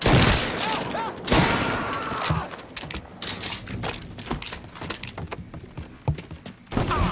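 Gunfire crackles throughout a street fight in the Mafia 3 video game, rapid bursts and single shots popping close and at middle distance with little pause, while voices shout over it now and then.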